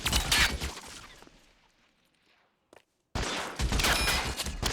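Bursts of gunfire in L.A. Noire, a loud volley that dies away into near silence, a short isolated crack, then another loud barrage.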